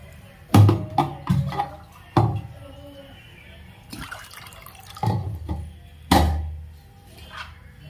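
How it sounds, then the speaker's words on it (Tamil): Water splashes and drips in a few irregular bursts, close by, poured into a pan while making horse gram (kollu) kuzhambu, with quiet pauses between pours. "தேவையான தண்ணி ஊற்றிக்கலாம்."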